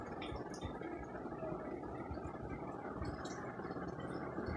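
A person gulps cold water on a hot day, a steady, close, wet swallowing and gargle-like sloshing that runs continuously without pause.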